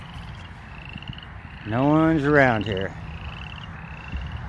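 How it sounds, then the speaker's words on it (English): Frogs croak in a field, one loud, close, throaty croaking call of about a second standing out over a background of outdoor noise, with someone speaking briefly. "You can hear the frogs over there and everything."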